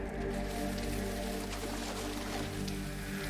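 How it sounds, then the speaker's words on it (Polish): Rain pouring in the rainy district of the video game Bleak Faith: Forsaken, a dense constant patter over a low rumbling hum, steady and unbroken throughout. "tutaj deszcz się rozpadał i jesteśmy znowu na zewnątrz"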